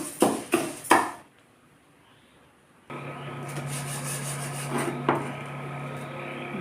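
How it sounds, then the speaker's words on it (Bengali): Moong dal being dry-roasted in a pan, heard first as a few loud scraping knocks of a spoon, then a short quiet pause, then a steady close rasping rustle of lentils being stirred. "ডাল ভাজা হয়ে গিয়েছে।"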